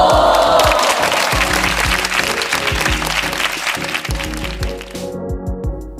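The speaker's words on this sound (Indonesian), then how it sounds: "Setelah mendengar pidato Genji, semua orang yang ada di dalam ruangan pun langsung bersorak dan tepuk tangan." A crowd in a room bursts into loud applause and cheering, dense clapping that thins out toward the end with a few scattered claps and occasional sharp cracks.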